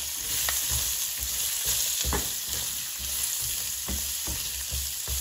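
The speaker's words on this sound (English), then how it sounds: "Now you hear the oil is sizzling, so it's heated up enough" Green beans sizzle in hot oil in a frying pan, a steady loud frying hiss with occasional stirring clicks and scrapes throughout, with no voices.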